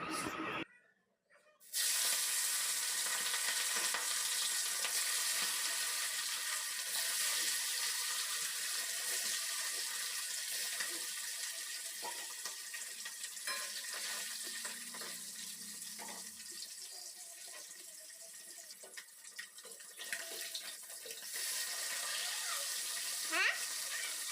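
Fish frying in hot oil in a wok, a constant hissing sizzle that runs the whole time after a brief dropout near the start, close and even with small crackles, fading slightly in the middle.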